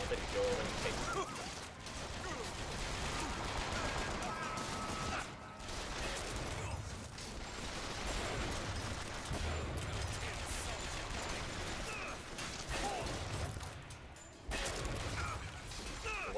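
Gunfire in the BioShock Infinite video game crackles in dense, continuous bursts with mechanical clatter and crashes, a loud, busy battle mix running the whole stretch with only brief dips.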